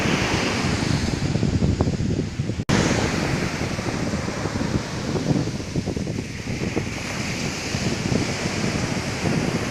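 Sea waves roll and break at Thottapally beach, where the backwater meets the sea, in a constant loud roar mixed with gusting wind buffeting the microphone.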